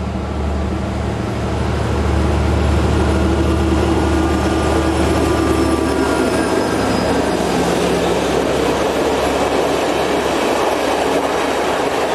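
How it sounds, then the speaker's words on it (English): A Class M41 diesel locomotive gives a loud, steady engine beat with continuous rolling wheel noise, close and sustained for the whole stretch with no voices. "Class M41 have a loud engine beat and are also popular with enthusiasts."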